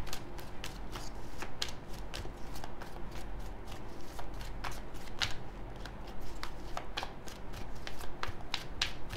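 Rapid crisp riffling and clicking of a deck of cards being shuffled, close up, with sharp repeated bursts over a steady low background hum.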